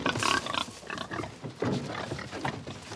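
Pigs on a farm in Brittany grunt and squeal in a dense, close chorus of overlapping snorts and oinks, loud and continuous throughout.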